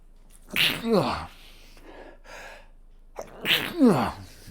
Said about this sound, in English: sneeze attack